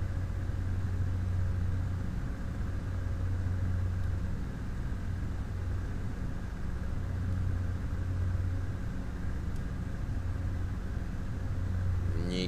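The twin engines of a Beechcraft Baron 58 with G1000 avionics drone steadily through a climb in flight over Gabon, a constant loud cabin rumble with a faint pulsing beat and no talk.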